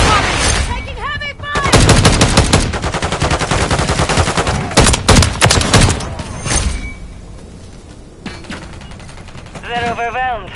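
Call of Duty: Modern Warfare III firefight: loud, dense bursts of automatic gunfire and sharp shots rattle close by, with shouted voice callouts in between and over the shooting.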